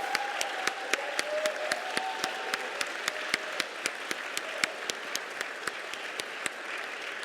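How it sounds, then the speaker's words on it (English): An audience applauds at a gala to honour someone standing at the back. Crisp, evenly spaced claps stand out over a softer wash of clapping from the crowd, and the applause stays steady throughout. "can we please turn around and applaud Ms. Jean Marie in the back, please?"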